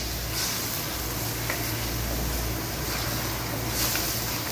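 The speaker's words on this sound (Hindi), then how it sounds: "मैंने कढ़ाई ली है, इसके अंदर जो मैंने प्याज मीडियम साइज़ का चॉप किया हुआ था उसके अंदर डाल दिया है।" Medium-sized chopped onions frying in half a cup of cooking oil in a karahi, a steady, dense sizzle that stays loud and even throughout without pauses.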